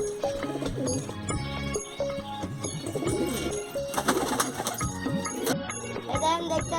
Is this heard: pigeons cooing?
yes